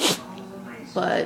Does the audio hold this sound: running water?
no